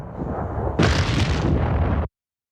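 A grenade explodes in the 1998 war film Saving Private Ryan, a loud, close, roaring blast that rises sharply after a rumbling lead-in and cuts off abruptly after about a second.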